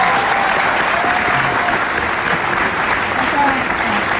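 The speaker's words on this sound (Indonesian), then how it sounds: "Tepuk tangan." Steady, loud studio audience applause at a television talk show, continuous dense clapping throughout with faint voices mixed in beneath it.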